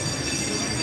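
A train passes in San Francisco, heard from the top deck of a double-decker bus, a steady rumbling roll with faint wheel squeal that holds for under a second.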